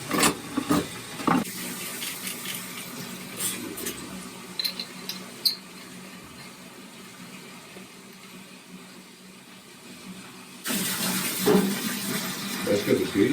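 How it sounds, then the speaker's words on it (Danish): Water pours and splashes into a pot for brewing beer, loud at the start, then a softer trickle under faint background noise, before a strong rushing pour returns near the end. "nu er vi jo så i gang med at hælde lidt vand op i vandgryden"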